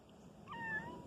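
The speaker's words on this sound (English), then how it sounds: "And then they started meowing, and they all came out here for some reason." Kittens meow in the woods among fallen trees, giving a soft, thin rising call over a faint, steady outdoor background.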